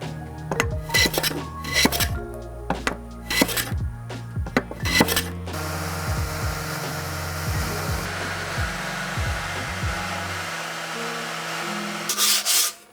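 Chisel paring angled through tenons in wood for a bedside table, with a run of sharp strikes and scraping cuts early on, then a steady rasping, hissing stretch of shaving and a final burst, all close and loud.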